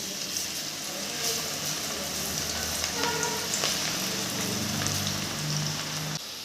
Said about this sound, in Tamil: இப்போ நம்ம அந்த பக்கோடாவை நல்லா உதிரியாக அப்படி போட்டுக்கலாம்.